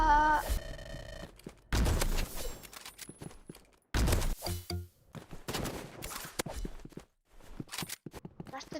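Sniper rifle shots in the shooter game Rivals: sharp, loud bursts ring out near 1.7, 4.0 and 6.0 seconds, each ending in a ringing tail, with scattered game effects and footsteps between them.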